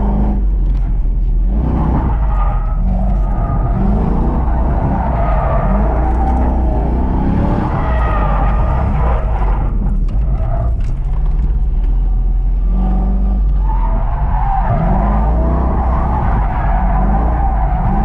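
A stock C5 Corvette drifts with loud, sustained tire squeal and skidding over a revving V8 that rises and falls as the throttle changes, heard up close throughout without talk.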